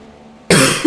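A single sharp cough, close and loud, bursting out abruptly after near-silence during an online F1 2016 racing session.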